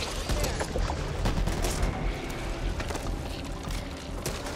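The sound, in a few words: machine gun fire in video game Back 4 Blood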